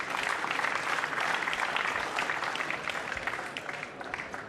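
Applause from a crowd at a 9-ball pool match at the 2006 WPA World Championship, steady dense clapping throughout, loud and close, slowly tapering toward the end with no talk over it.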